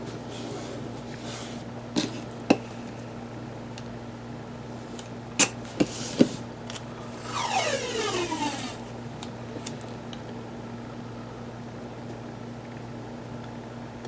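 Washi tape peeling off its roll, a short ripping rasp with a rising-falling streak, set against steady low hum and a few small taps while crafting a planner page.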